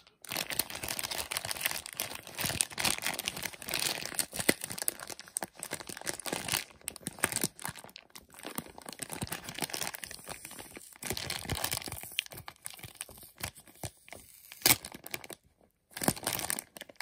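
Plastic packaging of a squishy stim toy crinkles, tears and crunches as it is unwrapped, a long close stretch of irregular rustling bursts with brief pauses.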